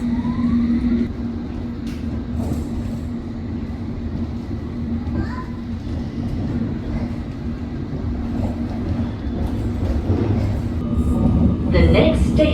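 A London Underground train pulling away from the platform toward Earl's Court, with a loud steady low rumble and rattle, a sustained mid hum and occasional squeals, swelling near the end, with voices and announcements faintly underneath.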